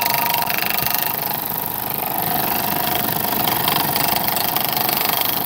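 A scroll saw buzzes steadily as its blade cuts through wood, a close, continuous rapid chatter with no talking.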